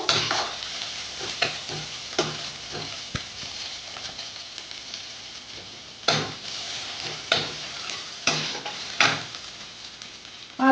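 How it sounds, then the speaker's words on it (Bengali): Onion, slit green chili and bay leaf fry in a pan of oil with a steady sizzle, broken by repeated sharp scrapes and knocks of a spoon stirring against the pan. "পেঁয়াজটা লাল লাল করে ভাজা হয়ে এসছে কাঁচা লঙ্কা চেরা তেজপাতা একটু ভেজে নেবো"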